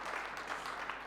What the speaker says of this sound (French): Voilà, Brahim applaudit.